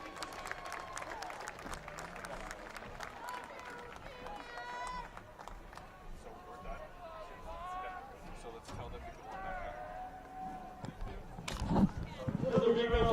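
A crowd at a high school football game cheers and claps for a senior player, with scattered applause, shouts and voices in the stands, and the noise swelling louder near the end.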